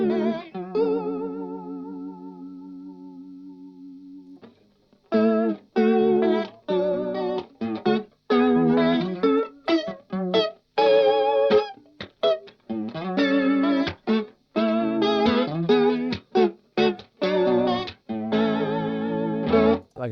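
Electric guitar runs through a Source Audio Encounter delay pedal set to a lo-fi short delay at full mix: a sustained chord rings, then choppy staccato notes and phrases each carry a warbling, degraded short echo, loud and alone.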